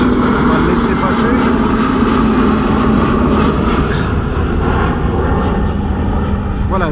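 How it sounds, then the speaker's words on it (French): An airplane passes overhead as a loud, steady engine roar that fills the whole stretch, with voices faintly present beneath it. "moi j'ai eu la bonne idée aujourd'hui de me remettre vers des avions, comme vous pouvez l'entendre"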